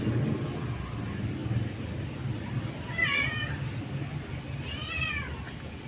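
A cat meows twice, faint and somewhat distant, over a steady low rumble of background noise.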